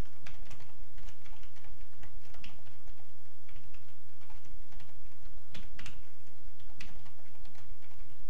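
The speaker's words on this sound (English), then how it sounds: "lots of typing here" Quick, irregular clicking of keys on a computer keyboard while writing C++ code, close and fairly loud, with short bursts and pauses over a steady low hum.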